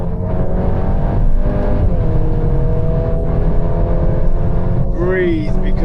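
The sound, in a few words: Golf 8 car accelerating at full throttle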